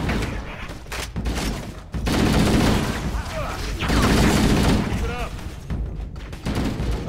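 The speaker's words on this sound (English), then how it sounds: "look out for those damn grenades" Grenade blasts and gunfire in the Halo game, level 3 'The Truth and Reconciliation': loud, dense booming bursts fill the whole stretch in rolling waves with brief lulls between, while a voice talks over the combat.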